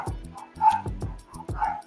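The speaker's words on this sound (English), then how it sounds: "my dogs are out there barking" Dogs barking repeatedly in a quick, uneven rhythm, fairly close and loud, with a few higher yips mixed in.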